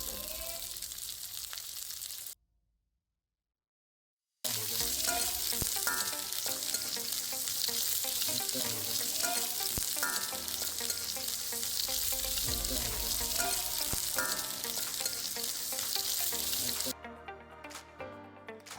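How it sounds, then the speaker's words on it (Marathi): Chopped onion sizzles in hot oil for paneer chilli, a dense, close crackle with scattered pops and stirring clatter. The sound drops to silence for about two seconds near the start, then resumes and runs steadily to the end. "तेल गरम झाल्यावर त्यामध्ये आपण चिरून घेतलेला कांदा घालून तो हलका सोनेरी होईपर्यंत परतून घेऊया."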